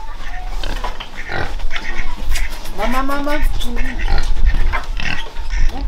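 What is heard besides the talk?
pigs on a farm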